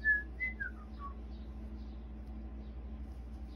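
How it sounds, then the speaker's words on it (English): A faint bird beside a farm field sings a short series of clear, sliding whistled notes over a quiet, humming background. "I'm not sure what bird it is. I thought it was meadowlark, but I'm not positive."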